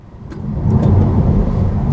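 An all-electric Porsche Taycan accelerates with its added drive sound, a loud, steady low synthetic hum swelling over two seconds as the car pulls away.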